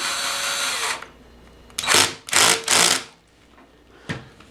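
A power drill drives bolts to secure a replacement battery inside a jump box, starting with one long whir, then three short loud bursts and a brief final tap, close up.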